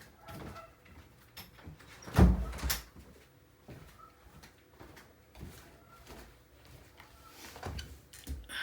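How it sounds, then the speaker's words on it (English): A room door is pushed shut indoors, landing as a single dull thump near the middle, with a few fainter knocks and shuffles around it in an otherwise quiet room. "I need to close my door."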